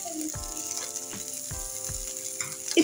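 Cheesy heart-shaped cutlets fry in one tablespoon of oil, a close, even sizzle with a few soft thumps spaced through it and a brief rise at the end, no voices.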